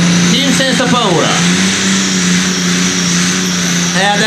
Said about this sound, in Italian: Il motore canta, non fuma nemmeno.